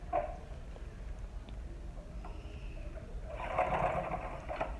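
A sewing machine stitches a baby's pearl-beaded shoe, opening with a backstitch: a quiet buzzing run that swells louder toward the end, with no talking.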